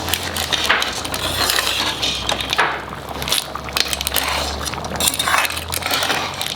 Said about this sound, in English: And in between keep stirring.